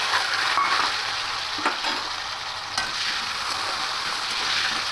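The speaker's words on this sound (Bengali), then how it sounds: "দিয়ে আলুগুলোকে একটু লাল লাল করে ফ্রাই করে নেবো" Small cut potato pieces frying in hot white oil, a close, steady crackling sizzle with a few soft stirring knocks and no voices.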